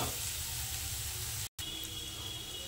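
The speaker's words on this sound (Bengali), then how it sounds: "এবার মশলাটাকে আবার একটু কষে নেব।" A spice paste that includes ground coriander paste fries in a pan for a dal tarka, giving a steady, fairly faint sizzling hiss that cuts out briefly once midway, with no talk.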